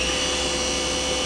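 A Milltronics vertical machining center with a BT spindle runs steadily, a constant close mechanical whine and hum with no speech.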